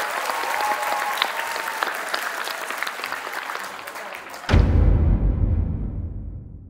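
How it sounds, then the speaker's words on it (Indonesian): A studio audience at a Bank Indonesia quiz competition applauding the Satria team, steady crowd clapping that cuts off abruptly into a loud low-pitched rumbling sting. "Boleh beri tepuk tangan dulu buat teman-teman dari Satria"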